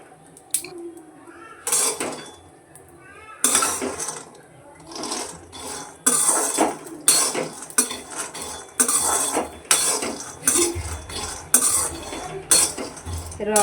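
Peanuts roasting in a metal pan are stirred with a utensil, giving repeated scraping and rattling strokes in an uneven rhythm, close and fairly loud, with almost no talk.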